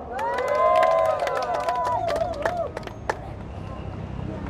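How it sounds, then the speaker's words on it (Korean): A crowd at an outdoor street talk show in Busan cheers and claps, with raised voices and whoops peaking early and then fading into scattered murmuring. "저 뒷분 좀 박수 한번 쳐주시기 바랍니다."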